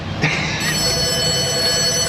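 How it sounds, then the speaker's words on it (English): Telephone ringing in a car repair shop, a steady electronic ring with sustained tones over background shop noise. "The phone's ringing."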